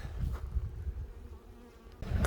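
Honey bees buzz around a hive close by, a steady, soft insect drone with low, uneven rumble and handling noise underneath.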